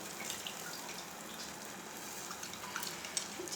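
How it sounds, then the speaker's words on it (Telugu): Tamarind water poured into a cooking pot of horse gram curry, a soft continuous splashing trickle of liquid, faint and close, with no talking. "చింతపండు నీళ్ళు వేద్దాము దీంట్లోకి"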